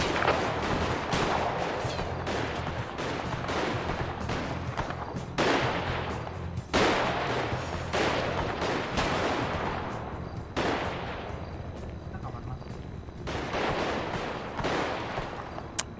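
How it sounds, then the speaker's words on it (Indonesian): Gunfire in GTA V roleplay comes in repeated loud bursts and sharp single shots, with short bursts of fire separated by brief gaps over a constant low background. "Dia nembak lewat bolong-bolongan ini loh yang di kanan kiri"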